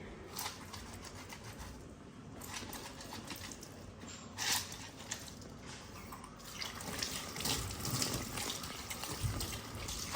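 Tap water runs steadily while kitchen cloths are rubbed and sloshed beneath it in a kitchen, with occasional splashes and drips nearby.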